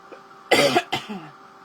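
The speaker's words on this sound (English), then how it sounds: "Still coughing." Two quick, harsh coughs close by, one right after the other, in an otherwise quiet room.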